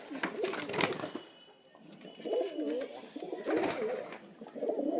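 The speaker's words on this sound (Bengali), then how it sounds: "একসঙ্গে এতগুলো পায়রা ঢুকে গেছে" Pigeons cooing indoors in a house, several birds gathered together: repeated soft throaty coos in rolling bursts, fairly close, with a few brief rustles and no talk.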